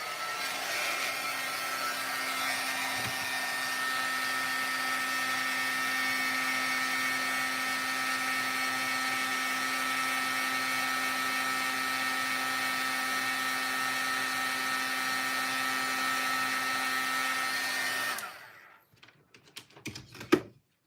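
A heat tool blows steadily to melt embossing powder on a stamped card, a loud even whirring drone that holds for about eighteen seconds, then cuts off into a few small handling clicks.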